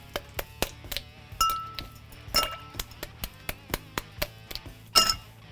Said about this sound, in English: I have here my ice pick anvil, and I'm gonna crack some ice.